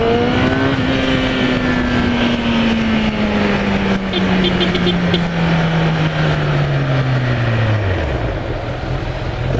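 Kawasaki ZX10R litre-class sport motorcycle engine held at high revs, a loud steady drone with pitch slowly sagging then dropping off near the end, close and continuous with no talk over it.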